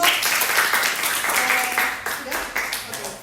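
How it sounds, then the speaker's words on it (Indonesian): Students in a classroom lesson clap together, a fairly dense burst of hand claps that holds for a few seconds with a voice faintly underneath, easing slightly toward the end. "Oke, terima kasih. Tepuk tangan untuk"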